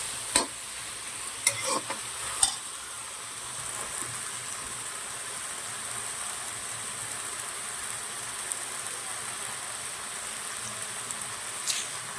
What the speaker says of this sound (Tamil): கொத்தமல்லி சார்ப்பு போட்டு தக்காளி வதக்குறோம்